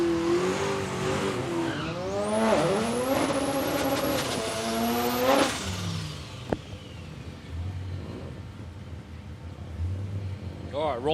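A Ram tow vehicle launches hard down a drag strip at Palmyra Raceway, engine note rising through the gears, loud and close before fading away as it pulls off, with a track announcer talking over it.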